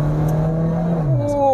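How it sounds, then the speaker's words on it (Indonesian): Used car with an automatic gearbox pulled into kickdown, its engine note droning steadily from inside the cabin and then rising in pitch as it accelerates. "Ini akan coba kita kickdown ya."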